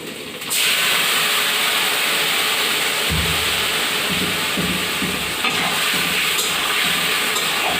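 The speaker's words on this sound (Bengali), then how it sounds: "দিয়ে দেবো আমার গরম জল" Hot water poured into a hot pan while cooking fish curry gives a sudden loud, steady hiss and sizzle that keeps going, with a few low bubbling bursts partway through.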